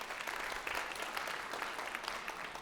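A conference audience applauds with steady, dense, fairly distant clapping that holds throughout.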